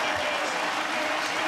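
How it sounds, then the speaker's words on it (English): A crowd at a State of Origin football match for bushfire relief roars in a steady, dense wash of cheering and applause that fills the whole moment. "Listen to the crowd, Bruce"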